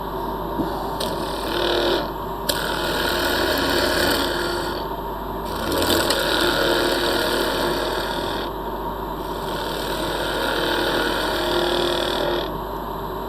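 A woodturning lathe runs during production work, a continuous rasping, rubbing scrape of a tool on spinning wood that swells and eases in long passes over a steady motor hum, close and fairly loud.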